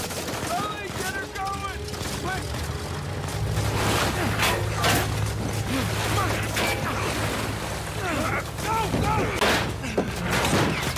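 Bursts of gunfire rake a plane in the video game Uncharted 4. Sharp repeated shots crackle over a steady engine and wash of water and wind, with voices mixed in.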